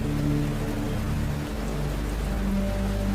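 Steady broadband rain in a cartoon sound effect, a dense, even hiss of falling drops with low rumbling underneath, continuous throughout with no voices.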